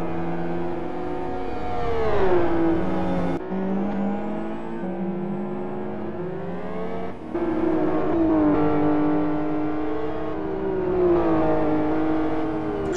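GT2-class race cars in a crowded 28-car qualifying session at the tight, twisty South City circuit, engines revving and shifting through gears continuously, several cars overlapping close by with rising and falling pitch and no talk.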